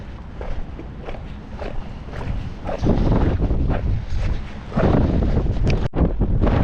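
Strong wind buffets the microphone in loud, rumbling gusts, with occasional creaks and thumps in the background and no talking.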